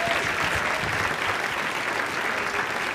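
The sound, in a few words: applause from audience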